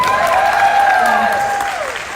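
Convention audience applause at a product showcase, a loud sustained burst of clapping and crowd noise with whoops and cheering voices rising over it, fading slightly toward the end.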